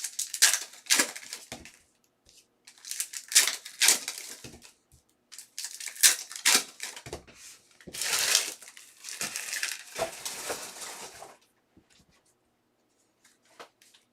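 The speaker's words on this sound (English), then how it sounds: "just keep ripping and ripping and ripping here" Foil hockey card packs, 2020/21 Upper Deck Extended Series, are torn open one after another in close, sharp bursts of ripping and crinkling, separated by brief pauses, with no talking.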